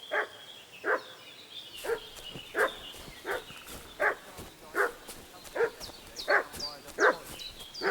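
A dog barks repeatedly in Kingdom Come Deliverance II, the sharp barks arriving in a steady rhythm about once a second, fairly close and loud, with no speech over them.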